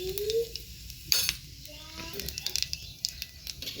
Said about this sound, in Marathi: थोडेसे जिरे आपण टाकूयात चवीपुरते या ठिकाणी यामध्ये.